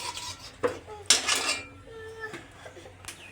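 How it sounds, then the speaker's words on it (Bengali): A finished koi fish curry with taro is poured from a cooking pot into a separate serving dish, with a cluster of metal clinks and scrapes from pots, a dish and a spoon, some sharp and some softer, close by. "এখন হচ্ছে একটা আলাদা ডিশে ঢেলে নেব।"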